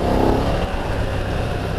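A 2020 BMW F900 XR sport motorcycle engine accelerates hard, giving a loud, close, steady roar under dense wind rush with no pauses.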